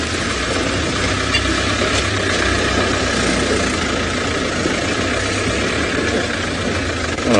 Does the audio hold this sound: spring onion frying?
no